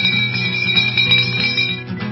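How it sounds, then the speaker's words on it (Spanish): A small hand bell is shaken repeatedly to summon everyone to a children's show, giving a bright, loud, continuous jangle of quick metallic strikes, close and alone for about two seconds. "Es una campana que me prestó mi abuelita. Con esta campana llamaré a todos a la función."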